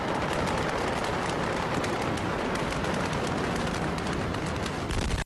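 A continuous, dense roar of noise from the Beirut explosion fills the whole stretch at steady loudness, like a rumbling blast wave with crackling grit, ending abruptly.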